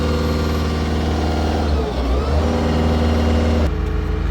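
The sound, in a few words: Caterpillar TH407C telehandler engine revs held up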